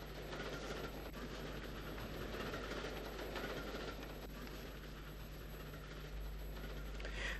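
A WT steam tank locomotive hauling nine coaches uphill in Ireland rumbles past steadily, a continuous heavy mechanical roar with faint rhythmic chuffing and rail clatter, no voices.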